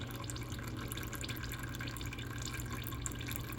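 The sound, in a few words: transmission fluid draining from a Toyota RAV4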